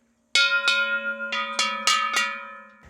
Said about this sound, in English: He really loved bells.